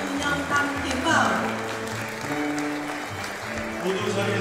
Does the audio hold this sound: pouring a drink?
no